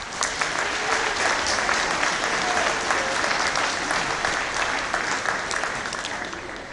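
A crowd at an awards ceremony applauds the team of referees, a loud, continuous roll of clapping with a murmur of voices underneath, fading slightly at the end.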